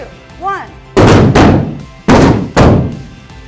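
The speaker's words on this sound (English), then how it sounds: "if you're doing an explosion" Explosions set off by a candle at a holiday science show: four loud, sharp booming blasts in quick pairs, close and echoing, after a short spoken word.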